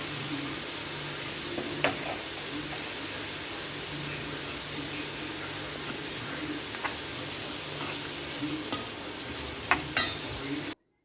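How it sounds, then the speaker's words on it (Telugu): Steady sizzling from a pan of vegetables frying briefly for a paneer gravy, with occasional stirring clicks and scrapes over the constant hiss. "ఇవన్నీ వేసి కొద్దిసేపు వేయించాలన్నమాట"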